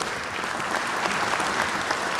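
Audience applause at a State of the State address, a sustained dense roar of many hands clapping filling a large hall, steady and loud throughout with no speech on top.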